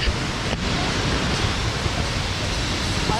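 Neer waterfall in Rishikesh roars as a constant, dense broadband rush of falling water, loud and unbroken throughout.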